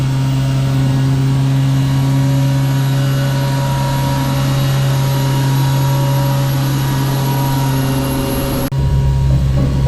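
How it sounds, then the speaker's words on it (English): A helicopter runs up close with its rotor blades changing pitch, a loud, steady mix of engine roar and high turbine whine that holds for most of the stretch, then shifts abruptly near the end. "you can see the rotor blade kind of changing pitch"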